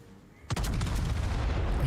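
Warship guns open fire in World of Warships, a sudden loud boom followed by a sustained rumbling barrage of rolling, heavy shots close by.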